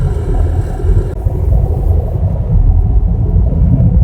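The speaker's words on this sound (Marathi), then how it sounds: "आता गाडी पार्किंग करतोय कारण पाठीमागे पार्किंग आहे" A car engine idles and rumbles while the car is being parked on a street in Sangamner. The sound is a loud, steady low drone heard from inside the cabin, with brief higher hiss early on that fades away.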